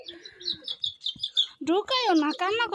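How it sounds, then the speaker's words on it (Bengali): Male pigeons on a farm calling, a series of short chirpy calls followed by louder, longer cooing-like vocalizations close by. "এভাবে যে কবুতরগুলো ডাকে ওইটাকে নরই বলা চলে"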